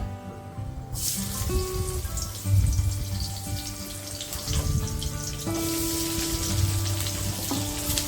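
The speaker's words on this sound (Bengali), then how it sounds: "কালো জিরে দিচ্ছি দিয়ে আমি পেঁয়াজটা দিয়ে দেবো" Onions frying in hot oil with nigella seeds make a close, steady sizzling crackle that starts about a second in and carries on beneath faint tonal background music.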